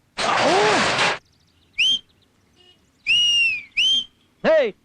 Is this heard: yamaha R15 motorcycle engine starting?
no